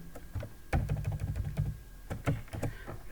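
Quick, irregular bursts of keystrokes on a computer keyboard while entering HTML code for an ICT lesson, close and fairly crisp, with brief pauses between clusters and no talking.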